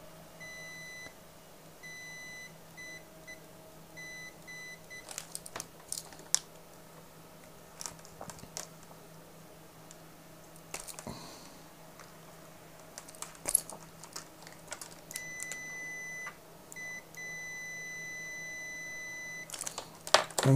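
Continuity test beeps from an Aneng AN8002 digital multimeter, several short electronic tones in bursts of varying length, mid-loud and close, heard alone without talk.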